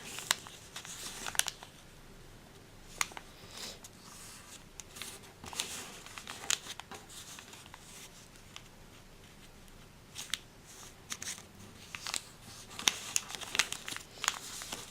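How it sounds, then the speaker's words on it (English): Paper for an origami lily being folded and creased, soft close crinkles and crisp rustling bursts recurring irregularly throughout, quiet and without talk. "Now you turn it over and fold each of these four corners into the center"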